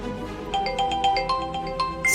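A mobile phone rings with an incoming call, a bright electronic melody of short repeating tones played in a quick pattern, clear and close, with no talk over it.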